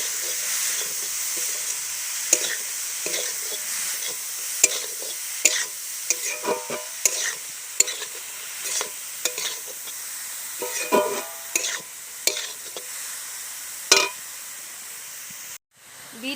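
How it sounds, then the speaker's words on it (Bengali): Beetroot and carrot with ginger stir-fry in a pan, a constant bright sizzle broken by repeated scraping strokes of a spatula, close and fairly loud, with a brief drop near the end. "বিট আর গাজরটা ভালো করে নেড়ে চেড়ে নিয়েছি"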